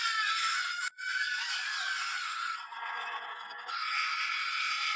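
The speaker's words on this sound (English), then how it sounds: "Let's all scream together." A group of people screams together in one sustained, loud, shrill roar that holds steady for several seconds, with a brief gap near the start and a slight dip partway through.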